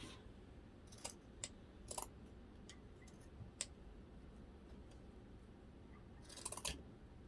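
Dull scissors cut wired ribbon for a Valentine wreath, making a few faint, crisp snips and ticks at irregular intervals and closing with a small cluster of cuts, close up against a quiet room.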